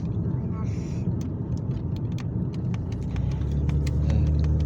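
A BMW E46 cruises on the road under cruise control, its engine humming as a steady low rumble with road noise while someone talks over it throughout.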